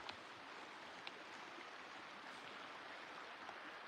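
A creek flows beside parked rigs, making a steady, faint, broadband rush of running water with no voices over it.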